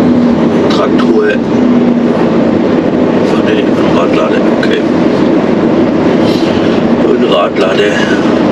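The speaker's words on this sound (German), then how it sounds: "Ein Radlader." A wheel loader drives past close by on a cold day, a loud, continuous diesel rumble with some clattering, steady throughout and with no speech heard over it.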